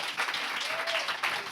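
Short burst of audience applause from a crowd at a French-language news show, loud and close, fading and then swelling again across a brief moment.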